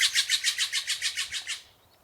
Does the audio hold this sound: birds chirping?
yes